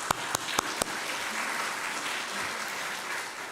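A church congregation applauds to welcome a new member at a Sunday service in Auckland. A few sharp claps open, then a steady wash of clapping fills the room for a few seconds. No one speaks.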